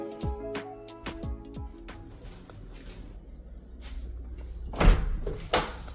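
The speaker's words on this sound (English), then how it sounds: "in case you didn't notice, this one does have a pocket door" A bedroom pocket door slides and knocks in its frame, giving a few sharp bumps followed by a longer rolling slide and a final thud.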